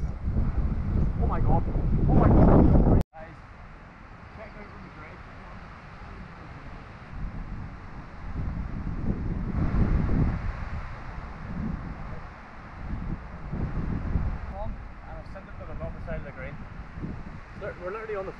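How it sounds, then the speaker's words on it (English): Strong gusting wind on a golf course buffets the microphone in low roaring surges, loud at first and then rising and falling as someone talks over it. "listen to that wind,"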